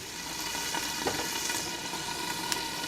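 Pork chops sizzling in a lidded cast iron pan over medium-low heat, giving a steady fizzing frying hiss with faint occasional clicks and no talk.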